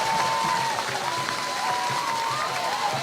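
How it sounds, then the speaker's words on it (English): Hornet fans keep up a steady roar of cheering and clapping in the stands at a high school baseball game. The crowd noise is continuous and fairly loud, with a few shrill whistle-like tones rising above it. "you can still hear these Hornet fans, even right before that pitch, still cheering on their guys, making noise for them"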